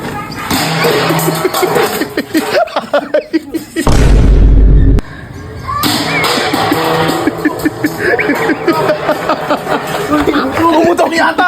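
A firecracker goes off for New Year as one sharp, loud boom with a brief low rumble, surrounded by people chatting and laughing close by.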